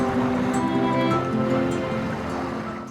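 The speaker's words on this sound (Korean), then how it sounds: "그만 파도가 높아 배를 대지 못했다" Rough sea near Hyeongje island off Gwanmaedo, with high waves washing and churning close by while a boat's motor hums steadily underneath and gradually fades.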